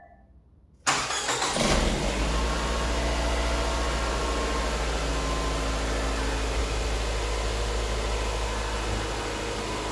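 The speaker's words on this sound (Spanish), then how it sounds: "Lo siguiente que van a hacer es arrancar el motor de su auto" A car engine cranks and catches after a brief quiet, then settles into a steady, loud idle that runs on to the end.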